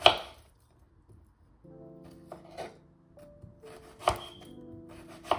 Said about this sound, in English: So my onions chopped up